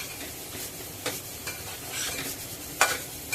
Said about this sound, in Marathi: आणि ते सुद्धा या फोडणीमध्ये मस्त मिक्स करून घ्यायचे आहेत